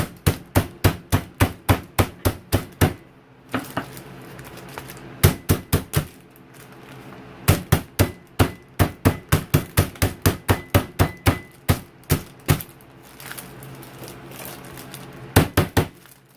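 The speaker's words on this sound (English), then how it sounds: "they have been officially flattened out" Steaks being pounded flat with a meat mallet, long runs of rapid, evenly spaced heavy thuds close by, broken by a few brief pauses between bursts.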